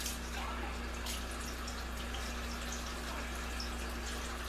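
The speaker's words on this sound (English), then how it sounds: "Get a little water in there. Rinse out all that yeasty goodness." Tap water runs steadily into a container to rinse out leftover yeast while home brewing beer from extract, a continuous close hiss with a faint low hum underneath.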